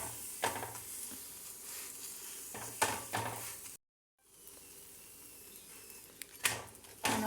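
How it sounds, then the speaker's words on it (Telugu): A methi (fenugreek) paratha fries in oil on a hot pan, giving a steady close sizzle punctuated by brief scraping bursts from turning it, with one short moment of silence midway. "ఆయిల్ వేసుకొని 2 సైడ్స్ మంచిగా ఫ్రై చేసుకోండి"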